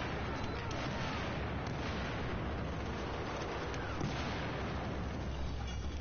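SKS rifle fire in a multiplayer shooter game, a dense, continuous stretch of gunfire and booming blasts that stays loud and even throughout with no clear pauses.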